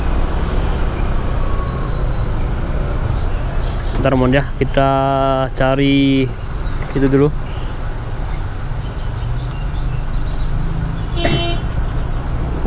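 Congested morning traffic on a jammed road in Bali, with steady engine rumble throughout, a drawn-out car horn blast in the middle and a short honk near the end, while someone talks over it.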